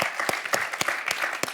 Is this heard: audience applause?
yes